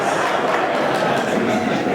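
Sustained applause from a live audience at a mathematics summit, passed around the room in a circle, steady and dense with no pauses.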